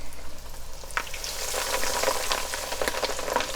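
Breaded chicken drops into hot oil and sizzles steadily, a dense crackling hiss with scattered pops, close and moderately loud.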